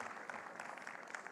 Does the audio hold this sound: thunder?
no